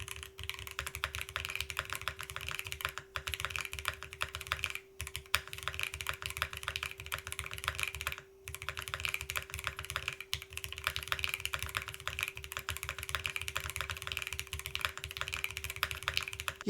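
Steady, subdued typing on a fully foamed mechanical keyboard with NK Classic switches and an FR4 plate, soft rapid key clacks close and quiet with a few brief pauses, plus a faint constant hum.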